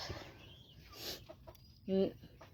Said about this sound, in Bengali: মুরগি পালে দেশি মুরগি